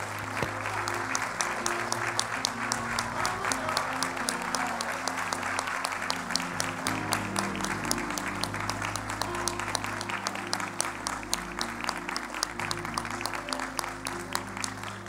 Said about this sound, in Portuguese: nós vamos dar um aplauso de agradecimento ao Senhor